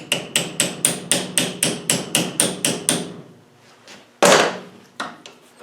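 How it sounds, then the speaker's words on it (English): A small hammer taps a fitting onto a pipe during an LT77 gearbox overhaul, a quick, even series of about ten sharp metallic strikes, then a pause before one louder knock and a softer tap. "Take a little hammer, put it on the pipe,"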